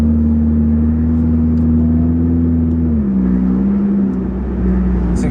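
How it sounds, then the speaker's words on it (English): Car engine idling with an exhaust leak during a repair session, a loud steady drone that dips in pitch partway through and runs on without talk. "It's exhaust leak's getting louder."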